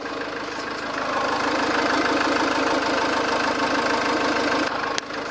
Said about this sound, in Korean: 엔진룸을 열어놓은 상태인데 한번 자세히 소리 한번 들려드리도록 할게요